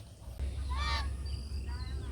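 A single nasal duck honk rings out over a steady low rumble, followed by a fainter second call, as ducks finish bathing.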